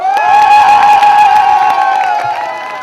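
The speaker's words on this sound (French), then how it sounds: "Applaudissez-le." Loud crowd cheering and applause at a commemoration event, with whoops and a sustained high shout riding over dense clapping, fading slightly toward the end.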